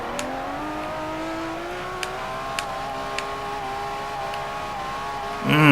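A Sesto Elemento's V12 engine in Forza 4 holds a high, sustained scream during a drift run, its pitch climbing slowly and steadily, with a few sharp clicks and a surge in volume at the very end.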